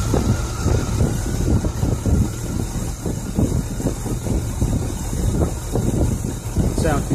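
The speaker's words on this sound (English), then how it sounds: "she runs not too bad for an engine that hasn't been running" A 45-year-old 455 Oldsmobile V8 with a rebuilt Quadrajet carburetor idles steadily with a rough, low rumbling pulse, while someone talks over it outdoors.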